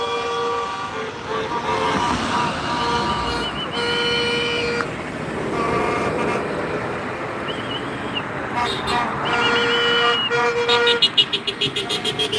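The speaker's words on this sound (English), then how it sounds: "We got people honking." Car horns honking from passing traffic at a street protest against ICE in Saint Paul, with short toots and longer blasts scattered over steady road noise and a rapid burst of beeps near the end.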